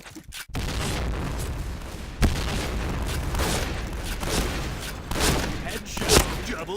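Grenade blasts and gunfire from the shooter game Point Blank, heard as a dense, loud barrage of booming shots and explosions that runs almost without pause, with a few sharper cracks standing out.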